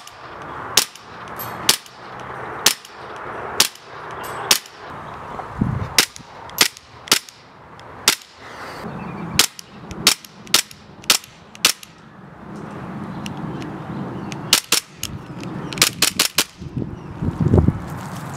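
An Echo1 Lonewolf Timberwolf gas blowback airsoft pistol fires about two dozen sharp, snappy shots with metallic slide clacks, spaced irregularly with brief pauses, loud and close with no talking.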